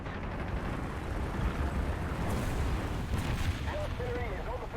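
Artillery fire in the War Thunder video game during a tank battle with an M4A1 Sherman, heard as a continuous rumble of distant booms and blasts at moderate level, with a brief voice or whistling tone near the end.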